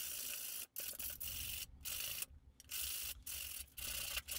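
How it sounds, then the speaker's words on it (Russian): Cut plastic bottle necks are sanded by hand, a series of dry rubbing and rasping strokes with brief pauses between them, close and fairly quiet. "Сейчас нужно их немножечко зашкурить."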